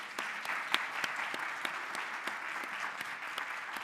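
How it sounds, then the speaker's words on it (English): An audience applauds after a university inaugural lecture, with sustained clapping heard fairly softly from the hall and a few sharper individual claps standing out. "Shall we give her another round of applause?"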